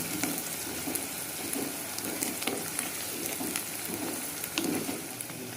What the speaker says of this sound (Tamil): ஆனியன் போட்டு நல்லா வதங்கிட்டுங்க